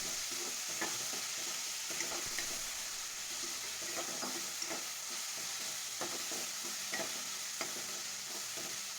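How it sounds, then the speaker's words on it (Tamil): Paneer butter masala is stirred in a pan as it sautés, a continuous sizzle running under repeated scraping strokes of the spoon, steady and fairly close. "மறுபடியும் நல்லா கலந்து விட்டுக்கலாம்"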